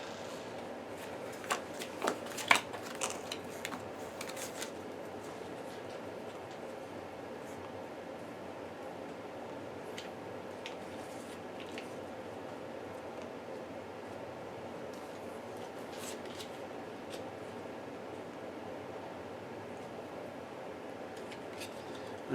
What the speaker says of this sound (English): I will shuffle these up.